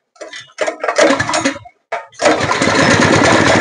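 A two-inch petrol water pump engine is pulled with its kick start, sputtering in a few short bursts before catching and settling into a loud, steady running drone close by.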